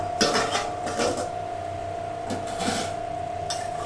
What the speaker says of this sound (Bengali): 5 মিনিট হয়ে গেছে, আমি ঢাকাটা খুলে দেবো